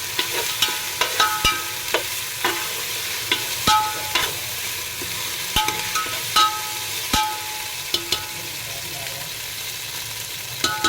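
Ginger garlic paste fries in a pan for chicken biryani, a steady moderate sizzle punctuated by regular sharp clicks and taps of a spoon stirring against the vessel.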